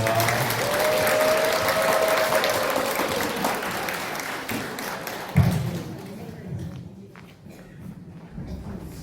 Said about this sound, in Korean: 오늘 강사이신 조한영 신부님 큰 박수로 모시겠습니다